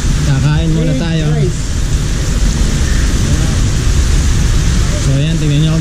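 Heavy rain pours steadily on Mount Arayat in Magalang, Pampanga, a loud, continuous broadband wash throughout, with people talking over it at the start and end.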